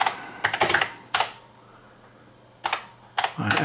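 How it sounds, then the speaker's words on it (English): Someone types a name on the keyboard of an Acorn Level 3 Econet file server machine, with short close bursts of clicking keystrokes separated by quiet pauses and one final flurry at the end. "I am a person who can type my name properly"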